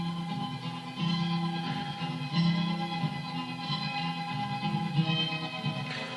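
Sampled beat built from a live-instrument recording, played back on an MPC as a switch-up section: a soft, steady musical loop with sustained tones and light rhythmic pulses, fairly quiet and with no talking.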